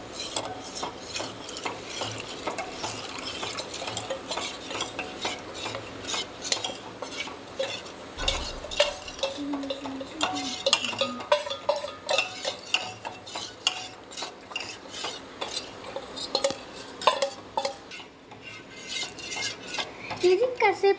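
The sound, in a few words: stirring custard powder mixed into milk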